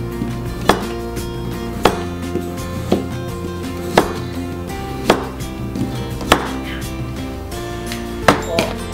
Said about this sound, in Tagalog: And hiwain din natin yung carrots natin.